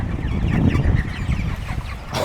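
Turkey clucking and murmuring up close while a handler lifts it, a dense run of throaty calls with no talk.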